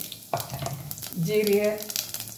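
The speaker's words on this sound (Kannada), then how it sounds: "ಈಗ ಬಾಣಲೆಗೆ 2 ಟೇಬಲ್ ಸ್ಪೂನ್ ಎಣ್ಣೆ ಬಿಸಿ ಮಾಡಿದ್ದೇನೆ. ಅದಕ್ಕೆ ಜೀರಿಗೆ" Cumin seeds drop into two tablespoons of hot oil in a frying pan, setting off a sudden close sizzle that swells and crackles for a couple of seconds with faint stirring, no voices.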